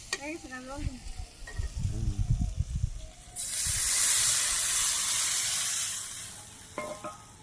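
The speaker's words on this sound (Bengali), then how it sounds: "শুকনো মরিচের গুঁড়ো কষিয়ে নিয়ে ভালো করে" Dry chili powder and turmeric hit a hot pan with a sudden loud, hissing sizzle that holds for a few seconds and then fades. A person speaks briefly before and after.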